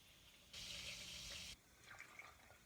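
Chilled club soda pours into batter in one steady, close splashing stream lasting about a second, followed by faint liquid settling.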